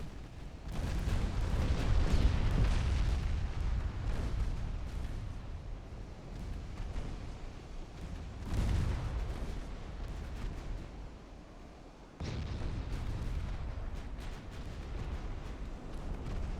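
Naval battle in Ultimate Admiral Dreadnoughts, with heavy gunfire and torpedo hits on the battleship Idaho: repeated rumbling booms and blasts rolling over a continuous low roar, with a sharp cut partway through.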